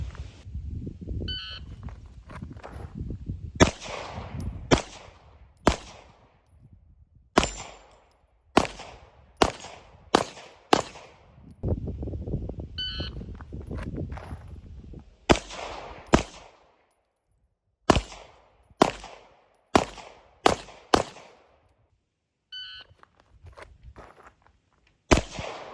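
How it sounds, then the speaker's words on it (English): A Walther PDP everyday-carry pistol fired one-handed at a shooting practice session: sharp, loud shots come in several quick strings separated by pauses, each report ringing out briefly before the next. "I'm going to finish up this session with some one-handed shooting."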